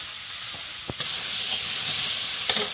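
Vegetables sizzle in hot oil in a pan, seasoned with five-spice, garlic and chopped onion, giving a steady close hiss with a few sharp crackles and pops.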